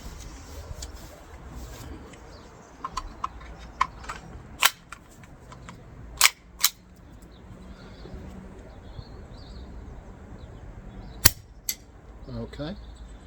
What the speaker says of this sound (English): here we go, shooting test from about 30 feet. I'm going to put 3 mags through